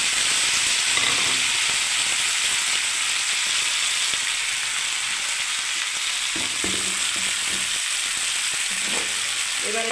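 Onion, capsicum, green chilli and tomato hit hot oil for a vegetable sabji, giving a loud, constant sizzle and hiss up close, with occasional scraping and stirring of the pan and no speech.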